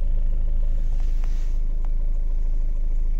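A car on a narrow winter street by the sea, waiting for a gas-delivery vehicle to pass. Its engine rumbles low and steady throughout, with a couple of faint clicks, and no one speaks.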